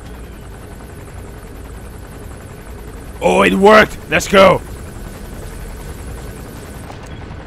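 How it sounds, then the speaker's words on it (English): A helicopter in the video game Metal Gear Solid 5: The Phantom Pain drones as a steady, fairly faint rotor hum beneath the action, while a player talks briefly over it. "Chopper is incoming."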